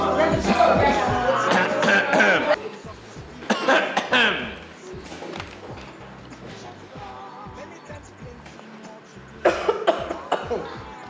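Someone coughs repeatedly in a school setting, with loud hacking bursts mixed with people talking and a brief louder cough fit near the end.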